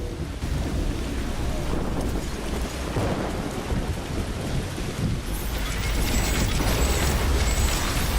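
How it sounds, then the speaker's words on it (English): An intense storm in the sci-fi video game The Riftbreaker, with dense, continuous rain noise and rolling thunder throughout, growing heavier toward the end. "The storm is getting really intense."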